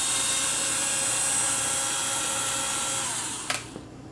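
A power driver with a Torx bit whirs steadily while removing screws from a Macintosh hard drive, loud and close, then cuts off near the end with a short click.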